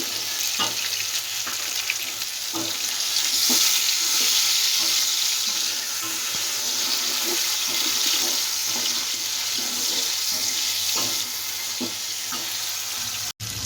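Tomatoes frying in masala for beef white yakhni pulao, a loud, dense, continuous sizzle with soft scrapes of stirring under it and a brief cut near the end.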